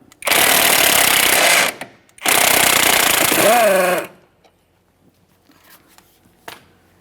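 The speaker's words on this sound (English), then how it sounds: "While holding that, let's remove our mounting nut." Two loud bursts of a pneumatic impact gun spinning off the mounting nut of a front sway bar link on a 2010-2013 Kia Forte Koup, each lasting over a second with a brief pause between, followed by faint clicks.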